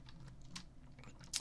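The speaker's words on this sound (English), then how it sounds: "sensitive enough to actually pick up the squeaky keyboard that I can hear personally right now" Squeaky computer keyboard being typed on quietly: soft irregular keystrokes with a couple of sharper, brighter key sounds at close range and no talking.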